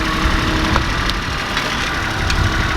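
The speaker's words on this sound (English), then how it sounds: "He's taking the tractor and pushing that thing over." A small Kubota tractor engine runs nearby as it pushes debris in a barnyard, a steady loud diesel chug with a faint knocking rattle throughout.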